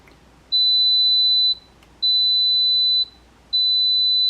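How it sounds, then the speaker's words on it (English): Three long electronic beeps in a steady evenly spaced pattern, high-pitched and loud, from a Cuisinart bread machine signaling the end of its cycle. "once the machine gets to the end of the cycle, it's going to beep to let you know that it's done"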